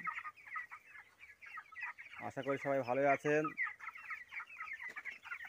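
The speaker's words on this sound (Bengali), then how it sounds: "এই যে আমার মুরগি দেখছেন" A loud, drawn-out call from a 25-day-old chicken rises for about a second between stretches of a person talking.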